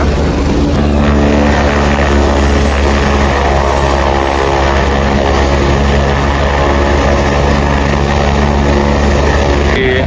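Loud, steady roar of a helicopter at the Kedarnath base camp helipad, with a pulsing rotor thrum and high engine whine, sustained close by throughout.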